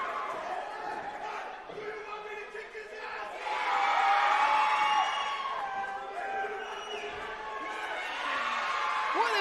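At a wrestling event the crowd cheers and roars steadily, swelling louder partway through, while commentators talk over the noise.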